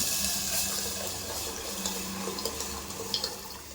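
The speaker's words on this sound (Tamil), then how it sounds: "கரைச்சி வச்சுருக்கிற புளி கரைசல் இதோட சேர்த்துக்கலாம்." Liquid splashes and trickles steadily, like strained tamarind water being poured into a pot of South Indian rasam, with small drips and plops toward the end and no talking.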